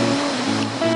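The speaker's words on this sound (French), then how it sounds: "Un petit peu moins verte que l'été, mais elle reste toujours aussi agréable cette cascade." A forest waterfall in early spring keeps up a constant close rushing roar of falling water, broadband and steady, with no voices over it.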